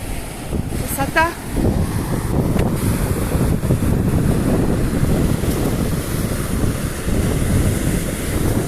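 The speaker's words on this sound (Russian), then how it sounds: "Морские вот эти вот волны, смотришь на них, смотрел бы до бесконечности." Sea waves on the Sea of Azov shore at Mariupol, a continuous loud wash of surf heavily buffeted by wind rumbling across the microphone throughout.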